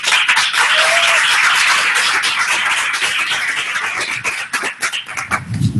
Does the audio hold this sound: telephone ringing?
no